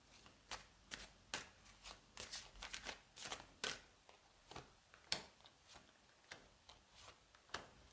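Tarot cards being shuffled by hand, a quiet, close run of irregular soft riffling flicks and taps, with no voice.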